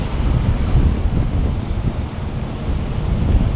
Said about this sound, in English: It's so freaking windy.